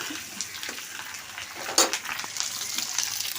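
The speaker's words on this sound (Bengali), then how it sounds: "ডিম ভুনার জন্য আমি এখানে ডিম ভেজে নিচ্ছি।" Eggs fry in a pan, a steady close sizzle with scattered crackles and one sharp clatter of a utensil in the middle.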